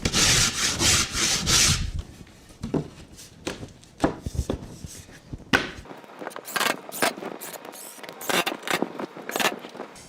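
A hand saw rasps through water-damaged ceiling material during trimming of a sagging ceiling, a burst of fast close strokes followed by irregular scraping and rubbing strokes, with no talking.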